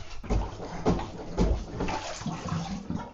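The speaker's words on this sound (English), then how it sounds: "Gently plunge it a few times." Plunger working a clogged bathtub drain, several rhythmic muffled thumps with water sloshing and gurgling, close and moderately loud with no speech.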